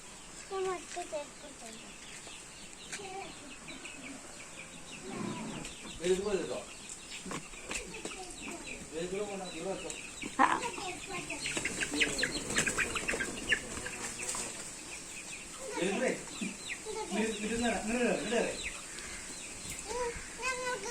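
Hens in a home chicken coop cluck and squawk in irregular bursts, fairly close but quiet overall, with some people talking among them.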